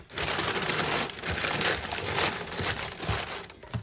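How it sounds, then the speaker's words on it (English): Wrapping paper is crumpled by hand into a box to form a nest for a fragile item, giving a close, loud run of crinkling and rustling bursts that goes on for about four seconds. "I'm going to take a piece of wrapping paper and kind of crumple it up on the bottom"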